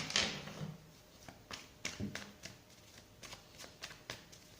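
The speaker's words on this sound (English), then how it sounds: "Let's shuffle." Tarot cards being shuffled in short riffling bursts, an irregular series of soft papery flutters and taps close by, with no talking.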